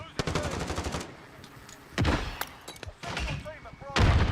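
MP7 gunfire in a shooting video game, a rapid automatic burst followed by several more shot bursts and thumps, close and loud, with a voice talking in between.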